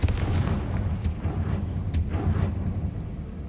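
Confringo fire spell explosions in Hogwarts Legacy: a rumbling barrage of booming blasts, with a couple of sharper bursts standing out, heavy and close, and no voices.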